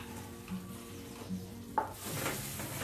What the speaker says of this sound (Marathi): ही मेथी पावडर मी 2 मिनिटं रोस्ट करून घेतलेली आहे.